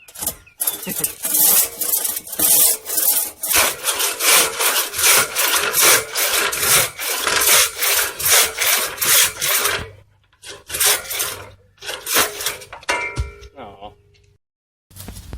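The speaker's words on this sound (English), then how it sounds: "I used my crosscut saw, as you saw" A crosscut buck saw with a lamb's tooth pattern cutting through a hardwood bow stave, with loud, rhythmic rasping strokes close by that stop for a moment, then resume as a few shorter strokes.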